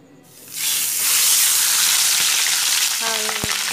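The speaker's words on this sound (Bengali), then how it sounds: "এবার মাছগুলোকে আমি ভেজে নেব।" Scaleless pabda fish slid into hot mustard oil in a wok, flaring into a loud, sustained hissing sizzle with bubbling crackle and a brief clink near the end, no talking.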